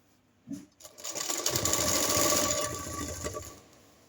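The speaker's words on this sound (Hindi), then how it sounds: "और इस तरह से घेर तक हम पूरी सिलाई कर लेंगे।" Sewing machine stitching the final seam of a baby dress down to the hem: a brief start, then a steady fast mechanical whirring run of stitching that fades out, fairly quiet and close, no voices.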